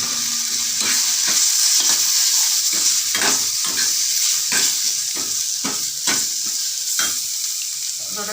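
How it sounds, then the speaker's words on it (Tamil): Capsicum sautéing with chilli powder in a pan for spicy paneer masala, a close, continuous sizzle broken by regular scraping stirs of a spoon, with no voices. "அதோட குடமிளகாய் போட்டு நல்லா வதக்கணும்"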